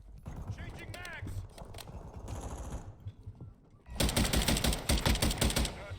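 Rapid automatic gunfire from a Call of Duty Modern Warfare 2 match erupts loud and dense in the last couple of seconds, following a stretch of speech and game voice callouts.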